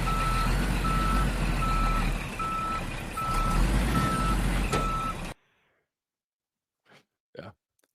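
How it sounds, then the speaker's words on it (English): A reversing truck's backup alarm: a loud, evenly spaced series of about six steady beeps over engine rumble, stopping abruptly, followed by near silence with a couple of faint, brief vocal sounds. "We got to back the truck up."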